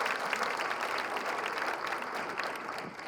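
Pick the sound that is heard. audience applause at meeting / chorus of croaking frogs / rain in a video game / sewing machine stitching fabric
audience applause at meeting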